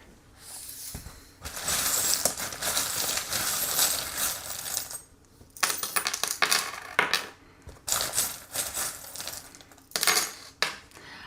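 Small metal charms for a tarot reading tumble onto a table in several bursts of bright clinking and rattling, each shower settling before the next, with brief quiet gaps and no talking.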